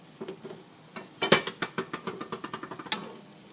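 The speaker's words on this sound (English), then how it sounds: "Give her a stir." A spoon scrapes and stirs through a quinoa stew simmering in a pot, making a quick rhythmic run of about a dozen close, distinct strokes over a soft background bubble.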